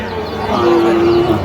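A Sahiwal bull calf at a busy cattle market gives a short, close, loud moo that holds a steady tone for under a second amid crowd murmur.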